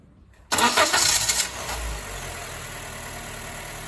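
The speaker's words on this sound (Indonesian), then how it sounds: "Oke, mesin nyala." A Honda Mobilio/Brio car engine cranks briefly and catches, fitted with new spark plugs, then settles into a steady, even idle; the start is loud and close, with no talking.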